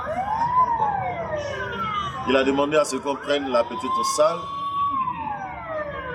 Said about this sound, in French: l'ambulance qui passe porte un malade